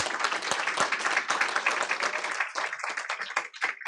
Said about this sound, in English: How about another hand of applaud for Henderson employees?